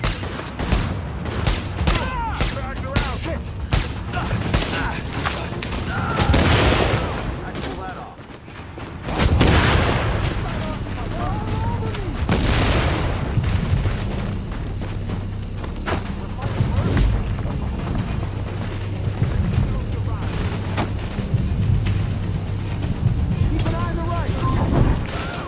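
Gunfire in The Division video game crackles in dense bursts throughout, with booming impacts and rapid fusillades mixed under game voices calling out during combat.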